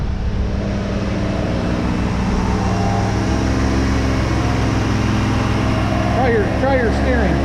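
A 1983 Ford Mustang GLX convertible engine runs at a steady, even idle, loud and close, with a continuous low rumble throughout. Voices speak over it near the end.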